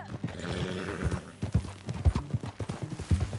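Horse hooves clip-clop at a steady riding rhythm in the video game Red Dead Redemption 2, the thuds close and distinct, with faint background sound throughout.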